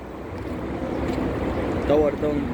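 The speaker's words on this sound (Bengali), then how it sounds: "কুয়েত সিটি কি সুন্দর হাওয়া চলছে" Wind blows through Kuwait City as a steady, close rushing noise across the whole stretch, with a brief voice surfacing near the end.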